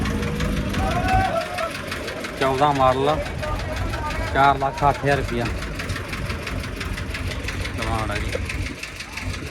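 A Mahindra Arjun 605 tractor with new tyres idles at the Moga tractor market, its steady engine chugging beneath someone talking throughout.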